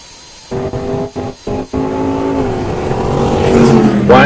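GMC and Chevy trucks launch at a drag strip, engines revving in sharp bursts before a loud sustained acceleration that builds and rises in pitch.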